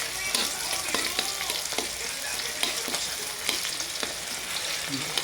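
Garlic sautéing in a pan, a dense, steady sizzle with frequent crackling pops and occasional stirring sounds, close and fairly loud.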